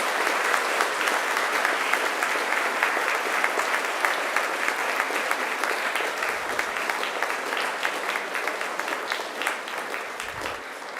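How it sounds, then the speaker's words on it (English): Sustained, dense applause from a large graduation ceremony audience honoring graduates' families, friends and supporters, steady and loud throughout with a slight fade near the end. "turn around to face your family, friends and supporters and give them a hearty round of applause"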